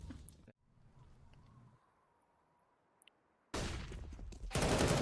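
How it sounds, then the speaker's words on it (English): Galil rifle gunfire from Counter-Strike: Global Offensive during a competitive esports match, a loud dense burst of shots arriving late after a quieter stretch, with a brief crackle at the start. "friberg hits the instant headshot on the Galil"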